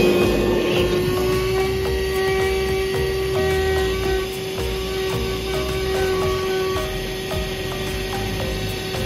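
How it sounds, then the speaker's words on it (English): A loud, steady motor whine with a sustained high tone and rushing airflow as a wet vacuum cleans an air conditioner's drain line, running continuously with no talking. "I proceed to clean the drain line with a wet vacuum."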